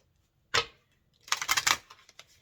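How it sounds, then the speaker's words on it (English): Tarot card decks are shuffled close by: one quick riffle burst, a short pause, then a longer fluttering run of card snaps trailing off into a few soft taps. "I'm going to shuffle both decks"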